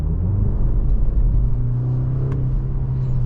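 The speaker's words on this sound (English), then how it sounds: "let's take a listen when we're in sport mode and we accelerate" 2024 BMW 530i accelerating in sport mode, heard from inside the cabin as a steady, loud engine drone with a low rumble that holds continuously throughout, with no talking.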